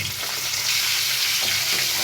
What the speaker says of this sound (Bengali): পেঁয়াজটাও এটার সাথে ভাজা করে নেব।